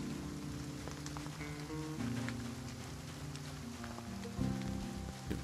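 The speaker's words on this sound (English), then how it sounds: "Just the rain I'm hearing?" Rain in the video game Project Zomboid: steady patter of drops on surfaces, a continuous soft hiss with scattered taps, alone.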